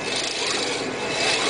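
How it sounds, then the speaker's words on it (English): A hacksaw cuts metal held on a lathe, a close, rough rasping stroke that continues steadily for a moment without talk. "And then I put my hacksaw on there."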